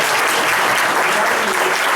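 A short burst of dense audience clapping at a motivational talk, loud and continuous throughout with no voice over it.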